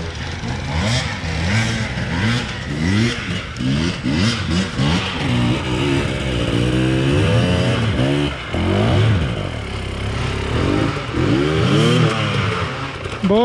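An enduro motorcycle engine at a hard enduro race near Sibiu revs repeatedly, rising and falling in pitch in loud close bursts, with a rough clattering idle between revs.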